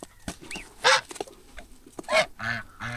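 Several short, nasal honks from a male goose, close by, coming in irregular bursts with brief pauses between them.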